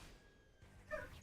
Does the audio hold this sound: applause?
no